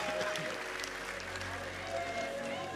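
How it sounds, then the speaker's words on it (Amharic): A church congregation claps together in sustained, dense applause that carries on throughout, with a voice speaking over the clapping. "አጨብጭቡ ለጌታ ክብር"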